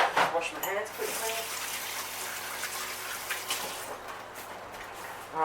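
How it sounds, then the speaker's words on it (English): Tap water runs steadily while hands are rinsed under it in a home kitchen during baking prep, with a continuous broadband splashing wash and brief talk near the start. "wash my hands quickly"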